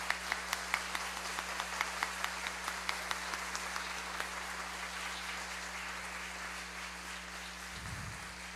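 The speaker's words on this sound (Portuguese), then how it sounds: "Uma salva de palmas para todos eles" A hall audience at a solemn legislative session honoring public prosecutors applauds, with distinct claps at first that blend into a sustained, fairly distant wash of clapping that slowly thins over a low steady hum.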